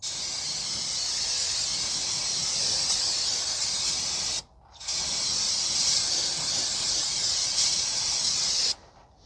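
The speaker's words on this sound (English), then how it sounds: "We are going to wash the area down with some brake cleaner." Steady aerosol hiss of Clean Flow 313 non-chlorinated brake cleaner sprayed from a can onto a 2012 Toyota Corolla 1.8 transmission area, two long continuous bursts with a brief pause between, close and fairly loud.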